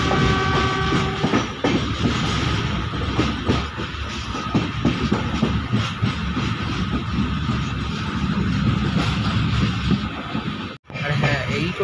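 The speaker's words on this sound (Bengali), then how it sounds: "এখন আমাদের ট্রেন পার করছে আদিনা স্টেশন" An LHB-coach express train runs through Adina station on a loop line, giving a loud, continuous rumble with clickety-clack of wheels over rail joints, heard from inside the coach with no voices, and a brief sharp break near the end.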